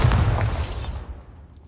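A Bombarda spell blast in Hogwarts Legacy, a single loud, booming explosion that hits at once and decays over about a second into quiet.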